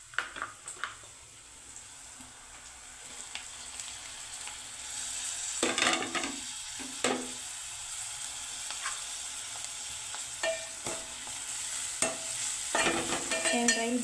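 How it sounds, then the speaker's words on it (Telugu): Crabs go into a pan for brinjal curry and cook, giving a soft steady sizzle broken by sharp scrapes and clatters of stirring and a few louder bursts. "ఇప్పుడైతే ఎండ్రాయిలు వేసేసుకుందాం"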